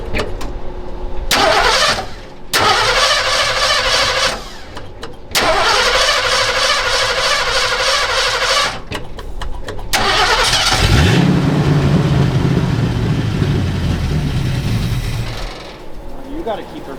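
Ford Galaxie car engine cranking in several long bursts, then catching and starting with a rev before settling into a rough idle, close and loud.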